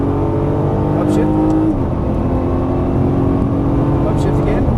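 A Nissan GT-R engine drones loud and close as the car accelerates hard, its pitch climbing before dropping at an upshift and rising again, with a voice speaking over it.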